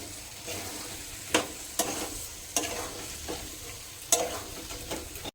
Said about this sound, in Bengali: এবার আমরা ভালো করে নেড়ে দিচ্ছি।